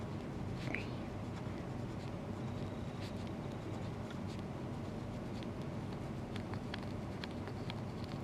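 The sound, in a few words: pencil writing numbers on a graph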